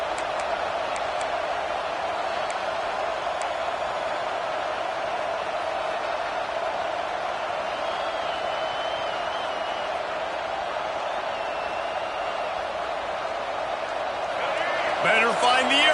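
A stadium crowd in a college football video game roars steadily on a third-down defensive stand, a dense, sustained wall of noise that swells louder near the end, with occasional sharp thuds.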